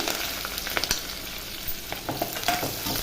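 Chopped onions, small onions and green chillies sizzle and crackle close up in a hot pan, with bursts of stirring scrapes over a continuous frying hiss.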